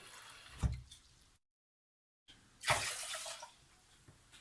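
Water poured into a pot of rice on the stove, ready for cooking rice for fried rice: two short, splashy pours separated by a silent gap, close and moderately loud.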